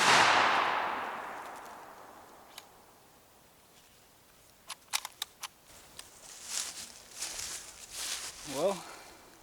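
A single loud shotgun blast from a Remington Nitro Turkey load opens the scene and decays quickly, followed by quiet handling clicks and someone speaking.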